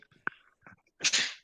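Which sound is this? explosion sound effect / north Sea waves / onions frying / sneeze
sneeze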